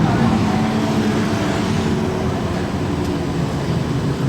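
Street stock race cars roar around the Redline Raceway speedway during an Australian title heat restart, a steady, dense engine drone with no break throughout.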